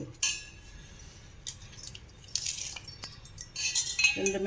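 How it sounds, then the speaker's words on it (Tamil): Antique bronze tumblers clink and rattle as they are handled, giving bright metallic taps and scrapes close by, first sparse, then busier and more clustered toward the end. "வெங்கல டம்ளர்ப்பா"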